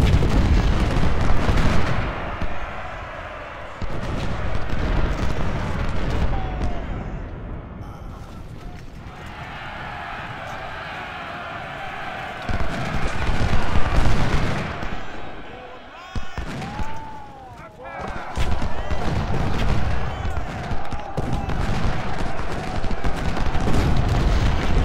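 Cannon and musket fire from the Civil War strategy game Ultimate General: Civil War, with repeated booming blasts and crackling volleys rising and falling across the stretch, mixed with game sounds and occasional talk.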